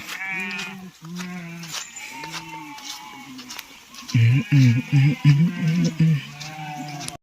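Sheep from a village flock on dusty ground bleat close by, first in a few spaced calls and then in a quick, loud run of overlapping bleats, with someone talking at times.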